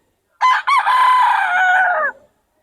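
A young stag rooster gives a single close, loud crow, a brief broken opening note followed by a long sustained call that drops off sharply at the end, alone against silence.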